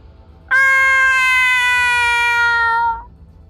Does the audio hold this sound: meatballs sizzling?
no